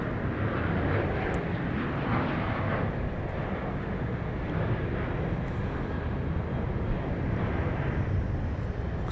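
An airliner departs from the west runway at Dallas Love Field, a loud, sustained jet roar heard from a distance that holds steady and rumbles throughout, with no talk.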